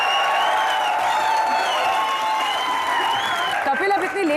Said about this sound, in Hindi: एक बार अजय देवगन और करीना कपूर के लिए जोरदार तालियां।